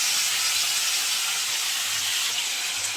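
Shrimp dropped into hot oil with fried onion, ginger and garlic for a potato, pointed gourd and shrimp curry, producing a loud, steady hissing sizzle that holds for the whole stretch without any voices.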